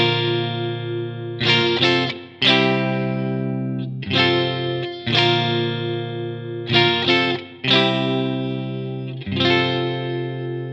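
Acoustic guitar with a capo strumming bright chords in short bursts with brief gaps between them, loud and close with no voices.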